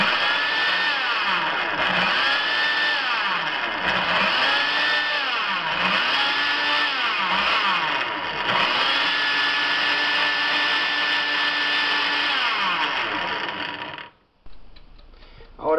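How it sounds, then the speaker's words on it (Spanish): A blender whirs loudly in repeated bursts, its motor pitch dipping and rising as it churns a thick muffin batter, then it cuts off near the end. "ahora la colocamos en la licuadora para que se mezcle mejor."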